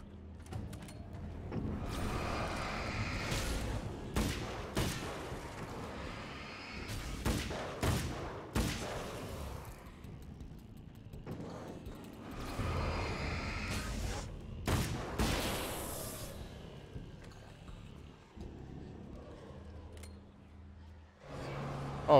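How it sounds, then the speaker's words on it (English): Rifle gunfire in the video game Alan Wake's American Nightmare rings out as repeated loud, punchy shots with bursts and heavy booms, spread in clusters across the stretch with quieter gaps between them. "weapons feel or sound a little bit meatier. At least this rifle does."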